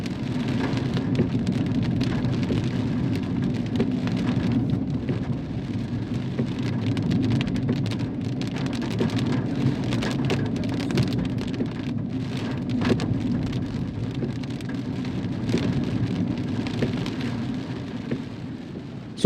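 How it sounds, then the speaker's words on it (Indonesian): Heavy rain pours steadily on a Jakarta street, a dense unbroken roar of drops drumming on surfaces with a low rumbling undertone, constant and loud throughout with no voices. "ini masih kena hujan, kejebak hujan di jalan"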